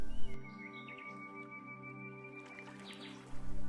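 Birds chirp and whistle faintly in short bursts over a steady humming drone, with a brief soft thump near the start and end.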